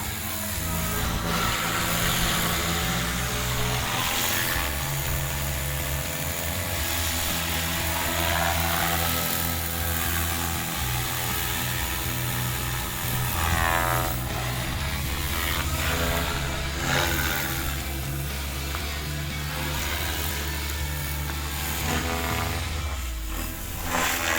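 A Devil 420 remote-control helicopter flying with its 3D flight functions, giving a steady, loud buzzing whine of motor and rotor that rises and falls in pitch as it maneuvers, with no voices over it.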